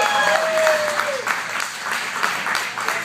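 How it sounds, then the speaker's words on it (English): A comedy club audience applauds a comedian in a steady burst of clapping. A sharp whistle cuts through near the start, and the clapping continues evenly to the end. "Austin Bryant, everybody, give him a round of applause."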